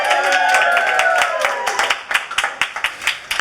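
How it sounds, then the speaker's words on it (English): Audience at an evening event cheers with loud whooping voices that fade, giving way to close, rhythmic clapping from a lively crowd that continues to the end. "Can I please have a little bit of a hell yeah and a round of applause?"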